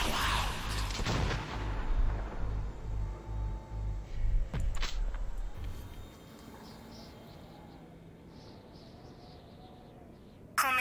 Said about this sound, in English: the missiles are in flight!